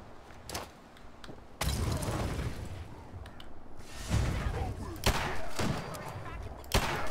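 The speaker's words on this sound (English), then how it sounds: "Who's shooting at me now?" Gunfire in Fallout 4 aimed at the player, a few sharp shots and bursts cracking through a noisy firefight, with someone talking over parts of it.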